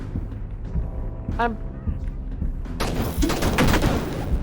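Bursts of gunfire in the horror video game Everyday Devil, a dense crackling volley in the second half, preceded by scattered game sounds and short effects, with no talk over it.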